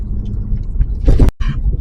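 A Mazda rotary-engine car revs hard past 8,000 rpm, a loud close rising engine roar with a brief cut-out before it picks up again.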